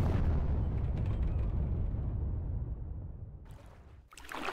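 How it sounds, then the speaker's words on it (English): A ship exploding in Puzzle Pirates, a loud rumbling blast that fades away over a few seconds, with a few brief sharp effects near the end. "The next time I managed to explode out of nowhere."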